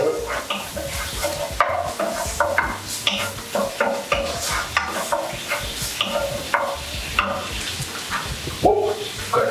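Mushroom soup is stirred in a pot, with uneven scraping and clinking strokes of a utensil over a light bubbling sizzle, fairly close and loud, with no talking.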